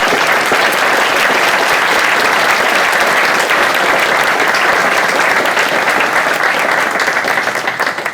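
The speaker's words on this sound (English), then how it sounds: "maybe this is worth a round of applause for this fantastic team" A conference audience at the Munich Quantum Software Forum 2023 applauds the organizing team, dense sustained clapping from a large crowd filling the room before tapering slightly at the end.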